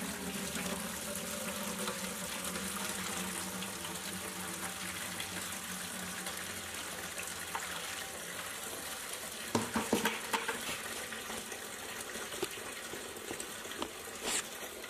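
Water trickles from the weep holes of a shower drain and splashes into a bucket below, a faint, continuous pouring and gurgling wash with a few brief louder splashes and no voices.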